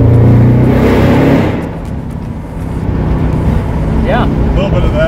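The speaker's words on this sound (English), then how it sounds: "Get a little bit of that exhaust note with the windows down" Car exhaust note heard from inside with windows down, a loud low engine roar that dips and then builds again, with a brief whistling turbo spool near the end.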